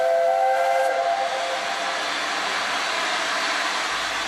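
A steam train whistle sounds loudly at the start, then gives way to a long, strong hiss of escaping steam that fills the rest of the stretch.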